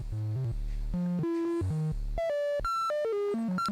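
Rapid, randomly stepping electronic tones jump unpredictably between pitches, bright and buzzy, with no regular melody or rhythm.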